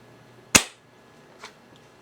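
UTG Gen5 spring-upgraded airsoft sniper rifle fires a single sharp, loud shot through a chronograph, with a quick decay and a faint click about a second later.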